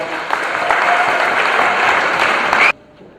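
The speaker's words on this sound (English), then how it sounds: "So let's give them another round of applause." A graduation ceremony audience applauds graduating students, with loud, dense, sustained clapping from a large crowd that continues steadily for nearly three seconds before stopping abruptly.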